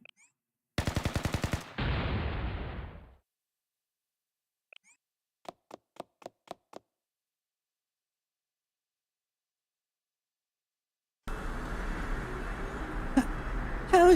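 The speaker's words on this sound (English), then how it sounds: "Wait, did I just hear shooting?" Gunfire: one rapid automatic burst with a short fading tail, then after a quiet gap a quick string of sharp single shots, followed later by a stretch of low ambient noise.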